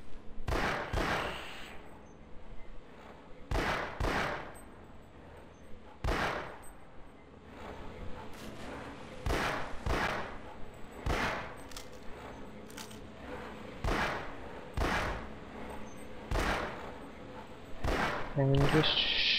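Repeated gunshots in Half-Life: Source, a dozen or so sharp, loud cracks spaced every second or two, ringing out over steady game ambience.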